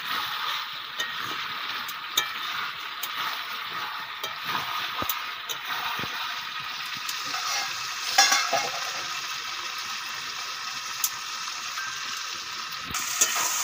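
Duck meat stir-fried in a pan for a Bengali duck curry, a steady close sizzle with scattered scraping clicks of a spatula stirring, and no talk.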